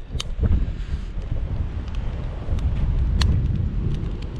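Wind buffets a wild campsite with a tent pitched in windy, rainy weather, a loud low rumble of gusts battering the microphone, rising and falling over several seconds with no speech.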